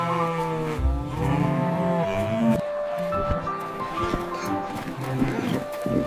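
A cow moos in a cartoon farm scene, its low tones rising amid busy background music and animated character sounds, fairly loud and mixed with other voices.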